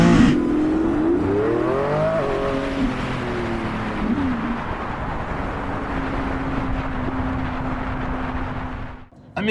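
Lamborghini Revuelto engine driven through Italian hills, a loud, steady close-up drone with rising pitch sweeps as it revs through gears early on, then settling into an even cruising hum.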